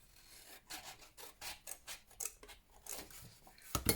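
Scissors snip through craft material while gift-making, a rapid run of about a dozen crisp, close cuts with short pauses between them and no talk.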